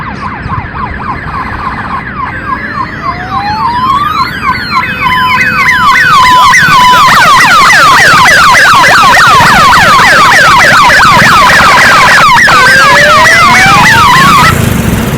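A loud electronic police siren horn on a motorbike wails and yelps in rapid sweeping cycles, close and piercing, changing patterns over a running engine on the road.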